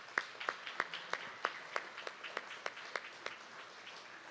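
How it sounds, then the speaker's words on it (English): Sparse clapping from a small festival audience at a Sakura cherry blossom festival, a dozen or so distinct claps in an irregular rhythm that thins out toward the end, fairly faint and heard alone. "please have a round of applause for them"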